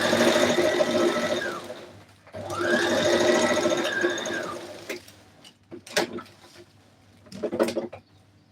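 A sewing machine stitches a shirt dress in two long, steady whirring runs, then short stop-start bursts with brief pauses between, close and clear with no talk.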